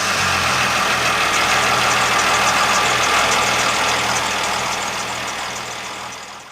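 Second-generation Dodge Ram with a Cummins diesel engine idling close by, a steady loud low diesel clatter and drone that runs evenly for several seconds before fading slightly at the end.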